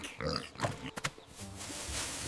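A cartoon pig gives a few short grunting oinks up front, followed by soft rustling and a low noisy wash.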